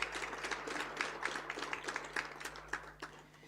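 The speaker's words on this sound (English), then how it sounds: "give a resounding round of applause to our Director General and our Deputy Minister" Applause from a seminar audience for officials, fairly faint with scattered claps running steadily throughout and no voices over it.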